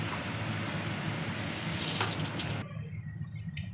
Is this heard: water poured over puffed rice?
yes